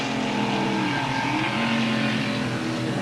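A race car at the 1981 IMSA Kelly American Challenge at Brainerd roars past on the track, its engine note loud and continuous with a pitch shift as it passes, no talk over it.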